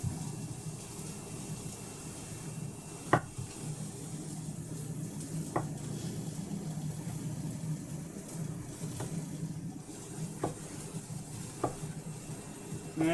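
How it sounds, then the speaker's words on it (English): Food sizzles steadily in a cast iron pan, a soft continuous frying hiss with a few sharp clicks and taps of utensils scattered throughout. "Put it right in there, still sizzling."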